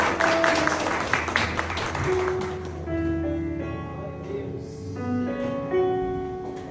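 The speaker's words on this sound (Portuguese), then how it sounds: "Se você crê, aplauda Jesus mais uma vez" A church congregation claps loudly for a couple of seconds; the applause then fades into sustained music with singing voices that carries on to the end.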